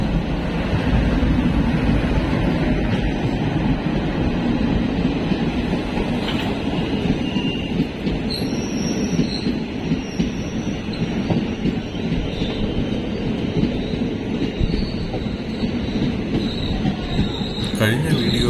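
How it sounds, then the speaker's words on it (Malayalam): A passenger train on the Western Ghats line from Kottarakkara to Chenkotta rumbles along steadily, wheels clattering, with high squeals from the wheels on the rails late in the run and faint voices now and then. "കൊട്ടാരക്കരയിൽ നിന്നും ചെങ്കോട്ട വരെ ഒരു ട്രെയിൻ യാത്ര."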